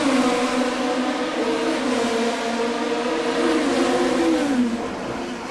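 On-board sound of a 2002 Formula 3000 race car at Monaco, a loud, continuous high-revving engine whine that shifts pitch through gear changes, no speech.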